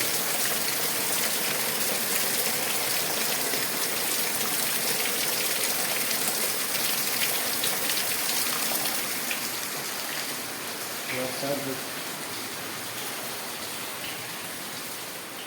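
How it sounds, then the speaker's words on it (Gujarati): Heavy rain pours down in a dense, continuous roar of drops hitting surfaces. It stays loud and even throughout, easing only slightly near the end, with no voices. "જોરદાર વરસાદ પડે છે જોરદાર લાગે જોરદાર પડે"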